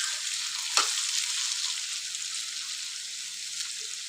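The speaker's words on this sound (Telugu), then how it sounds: "ఇది ఆయిల్లో మంచిగా ఇట్లా ఫ్రై చేసుకుంటూనే ఉండాలి" Beetroot, carrot and capsicum frying in oil, a steady bright sizzle that holds evenly, with one soft stirring clink near the start and no speech.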